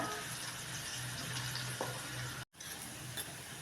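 Green chilli and garlic fry in hot oil for bhadang, giving a steady close sizzle with a brief cut-off near the end.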